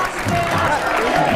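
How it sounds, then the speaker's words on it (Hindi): Studio audience applause greets a guest arriving on a Hindi news talk show set, a dense, steady patter of clapping that holds at a loud, even level throughout the short span. "जोरदार ताली एक बार फिर से कन्हैया जी के लिए"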